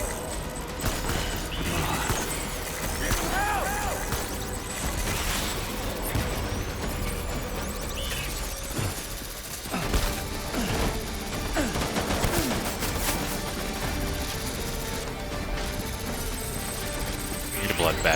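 Heavy gunfire in the video game Death Stranding, rapid bursts and shots mixed with crashes and chaotic game effects, with a voice talking over parts of it.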